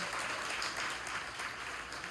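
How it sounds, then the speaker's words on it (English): An audience applauds two authors at a Q&A event, a dense, steady clatter of clapping hands that fills the room for the whole moment without any talk. "let's give Keith and Clay a round of Oh, applause"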